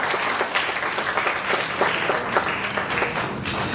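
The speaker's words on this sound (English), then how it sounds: "Please everyone, a big round of applause." At a Reading Decathlon nationals closing ceremony, an audience applauds the first place winner, a thick, steady roar of many clapping hands filling the hall without pause and without speech.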